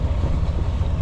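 Yacht engines idle with a low, steady rumble as water flows out around the hull, a brief continuous churning wash with no voices.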